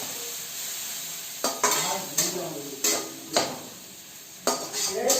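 Spices get stirred into onions frying in a pan at a home kitchen, soft sizzle underneath with several distinct spoon scrapes and knocks against the pan at irregular intervals.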